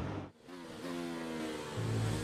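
A 2019 Mercedes W10 Formula 1 car on an onboard lap at Silverstone, its engine holding a high sustained whine with a brief dip early on, then climbing in pitch as it accelerates, close and continuous.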